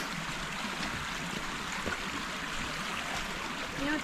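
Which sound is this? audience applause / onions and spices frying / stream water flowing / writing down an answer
stream water flowing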